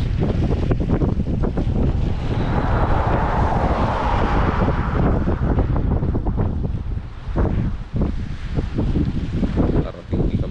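Cold wind blows hard near Akureyri, Iceland, buffeting the microphone in a constant loud rumble with gusty surges and no clear talking over it.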